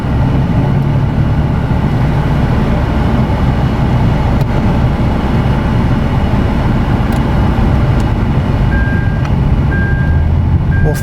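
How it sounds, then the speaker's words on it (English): A 2016 Kia Rio 1.6L with a low power fault runs its engine hard, a loud, close, steady droning rumble with little rise or fall, and a few brief electronic beeps near the end. "Let's rev it."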